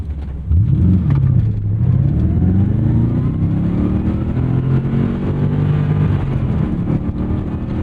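A 1991 Chevrolet Corvette C4 ZR-1 engine pulls hard under acceleration, its loud, close roar climbing in pitch through the revs, dipping briefly, then rising again steadily with no talking over it.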